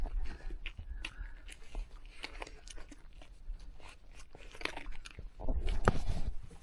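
A dog chewing soft dry food close by, a run of irregular crunchy bites and mouthing sounds, soft and uneven, growing a little louder toward the end.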